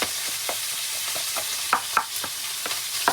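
Chopsuey vegetables fry in a pan while being stirred, a steady sizzle broken by repeated scraping strokes of the spoon, several of them sharper and louder, with no one talking.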